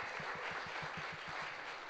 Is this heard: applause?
yes